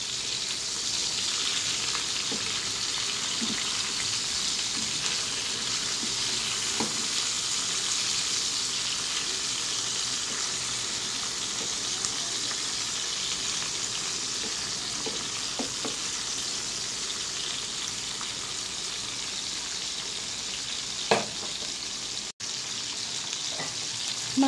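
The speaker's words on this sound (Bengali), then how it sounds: "একটু হালকা ভেজে নিব এটাকে।" Fholi fish fries lightly in a little oil in a pan, a steady close sizzle that runs on evenly, with a few faint clicks of utensils and no talking.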